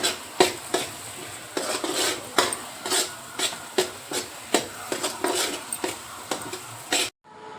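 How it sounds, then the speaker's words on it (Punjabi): Dal mixed into a spice masala is fried and stirred in a pan, giving repeated rhythmic scraping strokes over a steady close sizzle with no talk, cutting off abruptly at the end. "ਮਿਕਸ ਕਰਕੇ ਇਹਨੂੰ ਹੋਰ ਚੰਗੀ ਤਰ੍ਹਾਂ ਫਰਾਈ ਕਰੀ ਜਾਣਾ"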